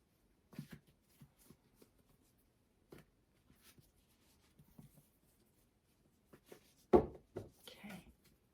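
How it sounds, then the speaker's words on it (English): Tarot cards being shuffled and handled in short, scattered bursts of soft rustling and flicks, with a louder flurry near the end. "I shuffle these cards for you."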